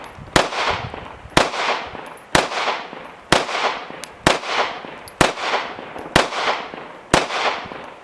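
A Springfield Armory TRP AOS 1911 pistol in 9mm fires eight sharp, evenly spaced shots about one second apart. Each crack is loud and close, followed by a short decaying ring.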